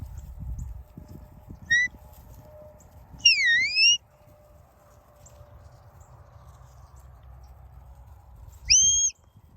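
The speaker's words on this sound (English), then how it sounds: "I'll give Ty a whistle again, and then I'll give Ben a whistle" A shepherd's sharp rising-and-falling whistle commands to border collies sound three times against quiet outdoor rumble, two brief multi-note calls and one short chirp.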